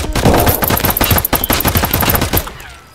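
Rapid automatic gunfire in a video game rattles out in loud, dense bursts close by for most of the span, then trails off into quieter reverberation.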